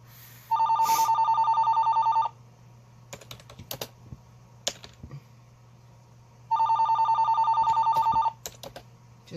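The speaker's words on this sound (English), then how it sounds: "that phone never stops." A telephone rings indoors in two loud electronic trilling bursts separated by a pause, with scattered keyboard clicks and taps in the gaps between the rings.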